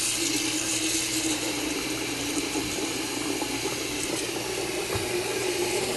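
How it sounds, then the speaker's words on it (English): Water runs steadily into a pot in a kitchen to cover the food. The rushing, splashing pour stays continuous and fairly loud, with no talking. "what I'm going to do is just cover them to the top with water"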